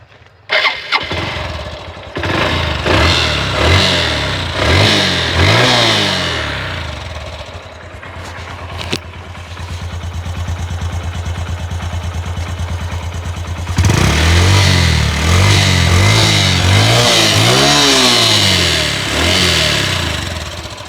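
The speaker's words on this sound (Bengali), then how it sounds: "যদি আপনাদেরকে গাড়ির ইঞ্জিন সাউন্ডটা শোনানোর চেষ্টা করি" A Honda Dream 110 motorcycle engine is started and revved, settling into a steady idle before several rising revs, loud and close with no talk.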